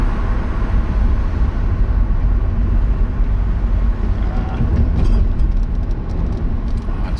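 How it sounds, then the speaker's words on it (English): Motorway traffic on the M1 near Upperthong and Holmfirth rushes past as a steady, loud broadband roar heard from inside a moving car, with wind buffeting and no talk. "Out the window you can hear the cars going over the M1."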